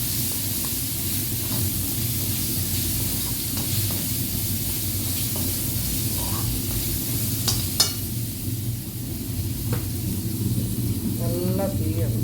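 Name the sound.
crushed ginger and garlic sizzling in hot oil with mustard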